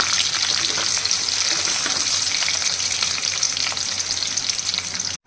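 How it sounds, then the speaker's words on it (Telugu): Dried red chillies cut into pieces fry with curry leaves in hot oil as a tempering for tomato rasam, a loud, continuous close sizzle with stirring throughout before it cuts off abruptly. "వీటితో పాటుగా రెండు ఎండుమిర్చిని కట్ చేసి వేసుకుందాం కొద్దిగా కరివేపాకు చక్కగా ఇవన్నీ వేగేంత వరకు ఒకసారి అయితే కలుపుతున్నాను"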